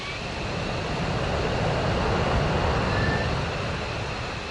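An F-15E jet taxis in the DCS flight simulator, heard as a steady, loud engine roar with broad rumble and hiss, holding constant throughout with no voices.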